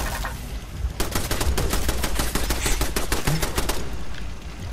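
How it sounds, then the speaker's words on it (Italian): Machine gun firing in the post-apocalyptic game Fallout 76, a steady rapid stream of loud, close shots rattling on for about three seconds before easing off. "E sento un'altra mitragliatrice da qualche parte."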